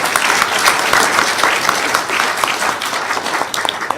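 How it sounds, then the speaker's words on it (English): Audience applause at a university Kīngitanga Day event, with a sustained, dense burst of clapping from a sizeable crowd that stays loud and even throughout and is fairly close. "please put your hands together for Hawke's Bay Finance"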